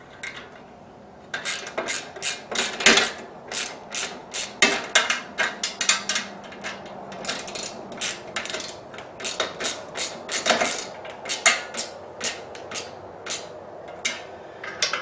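Bolts on a Harbor Freight concrete mixer are tightened during assembly, with irregular bursts of ratcheting clicks and metallic clinks close by, separated by brief quiet pauses.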